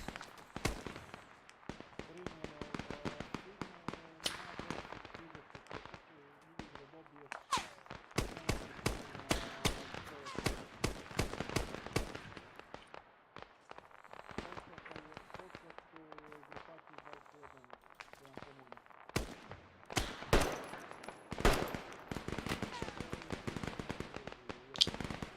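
Rapid gunfire from an Arma 3 firefight in a Serbian battle at Kosare, with sharp cracks in bursts and scattered single shots throughout, near and loud, mixed with someone talking over it.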